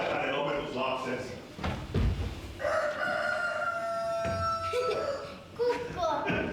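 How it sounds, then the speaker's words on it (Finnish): A rooster crows loudly during an Easter play, a long drawn-out cock-a-doodle-doo cutting in between spoken lines and rustling stage noise. "Kukko."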